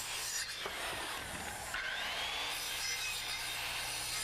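A saw works through a wooden stair stringer, overcutting the marked line intersections with steady rasping strokes, close and alone.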